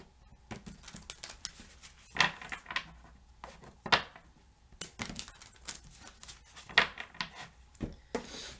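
Quick papery riffles and soft slaps come in uneven bursts, like a deck of cards being shuffled close by in a quiet room.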